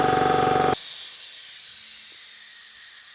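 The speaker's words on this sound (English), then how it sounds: "That sound you hear is what is called the unloader valve." An Ingersoll Rand air compressor motor hums with a steady tone, then stops abruptly and its unloader valve releases a loud burst of hissing air, slowly fading over a few seconds.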